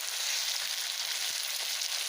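Kuchia eel meat sizzles and fries steadily in a pan, a close, even crackle with faint stirring.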